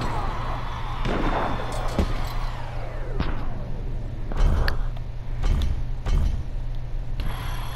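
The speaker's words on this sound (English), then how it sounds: "All the fireworks everywhere." Fireworks going off in the video game Just Cause 3: repeated sharp pops and bangs scattered irregularly over a steady low mechanical hum, some with short whistling tails, fairly loud and close.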